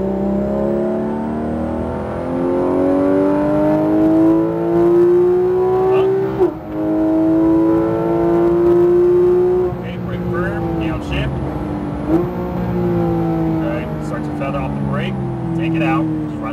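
A Porsche GT3 RS accelerating through a track corner, a loud close engine note rising in pitch through the gears with brief shifts. A voice talks over it from inside the car.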